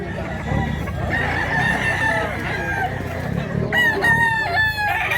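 A rooster crows loudly nearby over a noisy farmyard background, with other fowl clucking around it.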